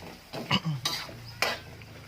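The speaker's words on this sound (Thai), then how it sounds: "เราก็ผัด พริกแกงนะครับ กับหมู ที่เราใส่กะทิไปเมื่อกี้นะครับ" Pork being stir-fried with curry paste and coconut milk in a pan, heard as a few short scraping stirs and soft clinks of the utensil, with faint sizzling beneath.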